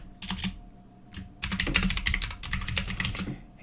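Rapid bursts of computer keyboard typing during a Python programming lesson, clicking keystrokes in quick clusters with short pauses, close and clear with no speech.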